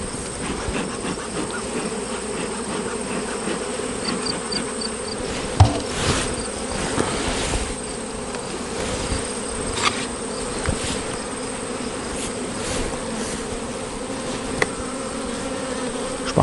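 Honeybees swarm and buzz around an opened beehive during a honey harvest, making a steady, close insect drone with a few louder passes and faint clicks.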